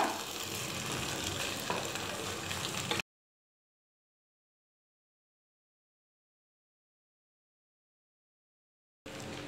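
Sabudana khichdi being stirred and sautéed in an oiled pan, a close steady sizzle with soft scraping that cuts out to several seconds of complete silence before briefly returning, with no talking.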